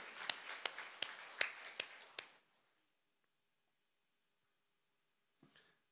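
A congregation at a Sunday worship service claps in a quick, steady burst of about eight sharp, close claps for two seconds, then falls silent, with one faint knock near the end.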